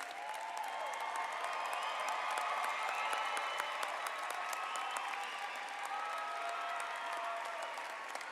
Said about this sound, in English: Join me once more now in applauding all of our graduates.